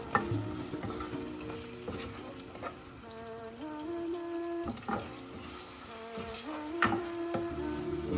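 Spices and ginger garlic paste sizzle in a pot for a beef or lamb biryani, a low steady frying hiss broken by repeated scraping and clinking of a stirring spoon, with a tonal hum running underneath.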